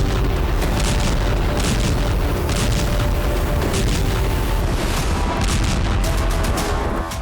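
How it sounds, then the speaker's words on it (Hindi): Booming blasts from drone and Iskander-type missile strikes in wartime Ukraine, a loud, continuous barrage of heavy explosions and rumbling impacts that fill the whole stretch without a break. "यूक्रेन में ड्रोन और इस्कंदर जैसी मिसाइलों के धमाके हुए।"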